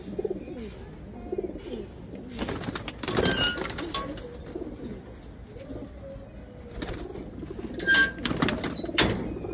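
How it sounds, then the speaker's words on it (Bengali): Pigeons coo in low, throaty bursts nearby, with occasional rustling and wing flaps over a quiet background. "এই আরেকটা নর কবুতর।"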